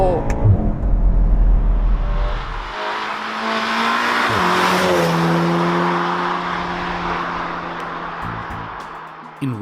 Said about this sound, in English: In race mode, Golf R sounds good not only from the outside, but the sound is also amplified inside.